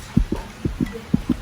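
Heartbeat sound effect signalling nervousness, a steady lub-dub pattern of three double thumps, deep and close, standing alone with no talk.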